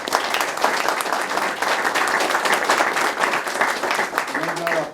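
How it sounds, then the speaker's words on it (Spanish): A seminar audience applauds a speaker with sustained, fairly dense clapping at moderate loudness, and a voice briefly starts talking over it just before the applause ends. "Yo primero, antes que nada, darle un aplauso a Víctor."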